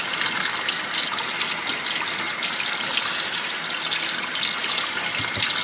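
Tap water gushes steadily as oxtail pieces are rinsed one by one in a kitchen sink, a continuous close, fairly loud rushing splash with no talking.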